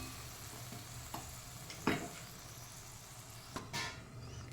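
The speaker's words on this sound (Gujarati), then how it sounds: "હવે આપણે ગ્રેવીને થવા દઈશું." Potato curry gravy cooking in a pan, a faint low bubbling sizzle with a few soft scrapes and clinks from a spoon, quiet and without talking.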